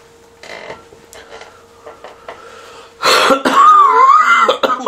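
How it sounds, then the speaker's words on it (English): A single person's cough and throat clearing, a sharp loud burst near the end after quieter creaking and clicking sounds, close to the microphone. "I coughed."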